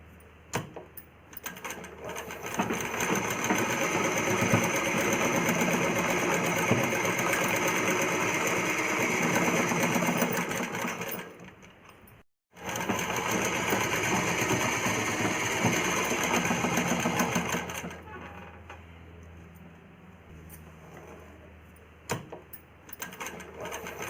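Electric sewing machine stitching a child's umbrella frock in long fast runs, stopping briefly midway and again near the end, loud and close.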